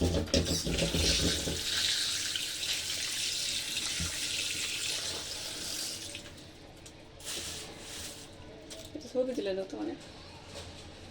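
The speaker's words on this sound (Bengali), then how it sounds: "এটা এখন ভিজিয়ে রাখি এখানে পানি দিয়ে" Running water from a tap splashes steadily into a container of food set to soak, with a voice speaking briefly at the start and light kitchen clatter later.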